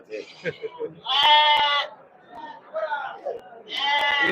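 Goats bleating at the Pudhiyamputhur goat market in Thoothukudi district, with loud, drawn-out cries in two main bursts and a few shorter calls between, while people talk in the background.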